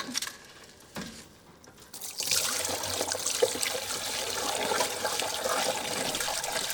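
Water gushes from a newly reopened mains supply in a residential building, starting after a faint trickle and a couple of clunks, then rising into a steady, continuous rush of flowing water that stays constant to the end.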